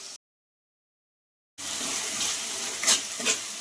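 Chicken curry masala for Andhra-style chicken curry fries in oil, giving a steady, close sizzle that starts after a moment of silence and carries on with small crackling swells.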